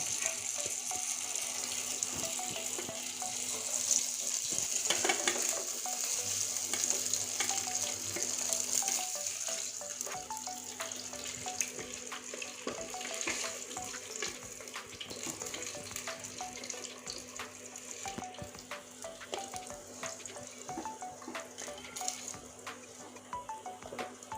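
Pieces of catla fish fry in hot oil with a steady, fairly loud broadband sizzle lasting throughout, dotted with small crackles and occasional utensil clicks as the pieces are lifted out; no one speaks.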